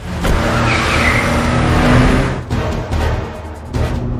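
A car speeds away in an escape scene from the film Hitman: Agent 47, engine roaring loudly and continuously with tire noise and a few abrupt impacts or shifts toward the end.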